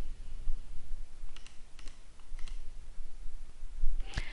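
Mouse clicks while adding libraries in a project's build link-order settings: a few light, sharp clicks spaced about half a second apart, heard over a steady hiss of background noise.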